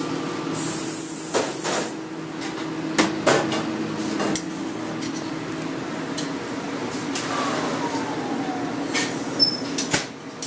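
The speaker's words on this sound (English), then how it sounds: "I'm going to spray it with a little paint spray" A steady hiss of an aerosol spray can runs for about a second and a half, fairly close, amid faint kitchen clatter.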